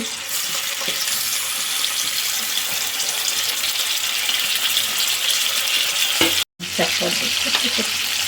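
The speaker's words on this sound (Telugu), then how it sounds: "ఇవి వేగుతున్నాయి నూనెలో వాసన లేకుండా" Salted dried fish frying in hot oil, a steady loud sizzle with crackling that runs on unbroken, briefly cutting out near the end before resuming.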